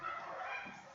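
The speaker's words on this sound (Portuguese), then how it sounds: "esse é meu cachorro cantando, gente" A dog howling in a drawn-out, wavering tone for about a second, moderately loud and close, with no other voices.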